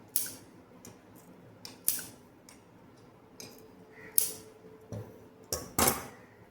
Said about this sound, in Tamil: இப்போ இதையெல்லாம் சிசர் கட் போட்டு விட்டுறலாம்